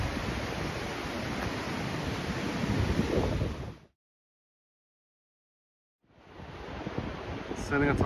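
Wind and rain in the Scottish Highlands buffet a microphone outdoors with a loud, roaring, surf-like rush that cuts to silence midway, then resumes just as strong.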